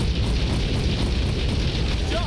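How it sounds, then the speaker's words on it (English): A sustained, loud, rumbling explosion from the PC video game Grand Theft Auto 2, a dense roaring burst that fills the whole short stretch at a steady level with no pause. "Let's get up here and let's watch the spectacular explosion."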